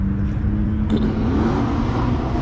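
A Mustang muscle car at a late-night car meet gives off a deep, steady engine rumble, close and loud throughout, with a brief higher-pitched sound cutting in near the middle.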